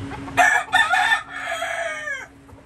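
A single rooster crows close by at a backyard chicken coop on a fourth-floor rooftop, one full drawn-out crow with a falling tail against a quiet background.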